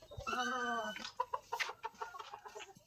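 A chicken (hen) lets out a drawn-out squawk, then a run of quick, choppy clucks close by in a garden.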